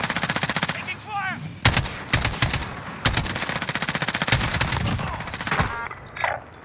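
Call of Duty Modern Warfare gunfire: heavy, close automatic bursts rattling almost nonstop, with brief gaps and a faint radio-like chirp near the end.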